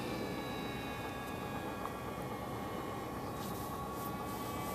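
An Icon A5 model airplane flies with a steady, continuous engine drone and faint high whine, holding at an even level throughout without any talk.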